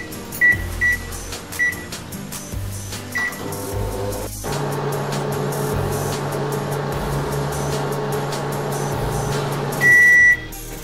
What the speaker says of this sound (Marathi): आता ओव्हन 2 मिनिटांसाठी आपण गरम करून घेऊया।